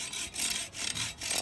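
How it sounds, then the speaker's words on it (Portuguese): A hand saw cuts through a motorbike exhaust pipe in quick back-and-forth strokes, each rasping pass separated by a brief pause, close and fairly quiet. "Querem que a gente serra aqui o cano, ó, o cano da motorizada?"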